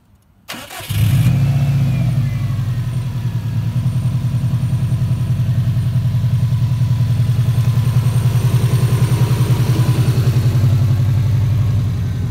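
A Subaru WRX engine cranks and fires up just after a fresh spark plug change, then settles into a loud, steady running note with a throaty low rumble that holds for the rest of the clip, with no voices over it.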